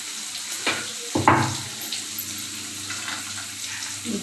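Onions and green chilies fry in a pan, giving a soft sizzle with occasional stirring clatter of a utensil against the pan, close and fairly quiet, with no talking.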